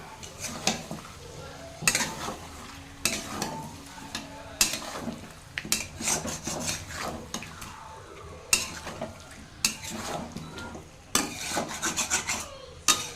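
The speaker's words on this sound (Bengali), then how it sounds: "এখন একটু করে নাড়াচাড়া করব আর ঢাকা দিয়ে আমি রেখে দেবো" Village-style chicken curry is stirred in a pan, the spoon scraping and rasping against the metal in repeated strokes, with a light sizzle beneath and no voices.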